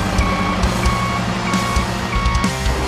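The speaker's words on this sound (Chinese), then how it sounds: "仿真音效，模拟真车驱动" A 1:18 scale toy RC Scania 770S truck plays its simulated sound effect, a loud, regular electronic reversing beep repeating several times over a rumbling engine-like drone.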